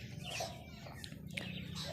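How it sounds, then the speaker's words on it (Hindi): A rooster in a cartoon story crows and clucks loudly, sounding fairly faint and distant through a busy, hissy background, with no speech. "उसे अपनी आवाज़ सुनाने के लिए ज़ोर ज़ोर से कुकड़ू करने लगा"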